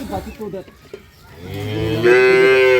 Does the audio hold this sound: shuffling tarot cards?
no